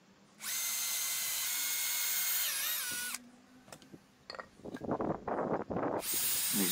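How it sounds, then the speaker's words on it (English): A power drill whines loudly at high speed for a few seconds, drilling down into wood, stops, then several short bursts of drilling and grinding follow before the whine resumes. "Now I'm just drilling down through the bottom."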